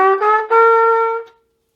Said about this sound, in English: to create the sound of a trumpet.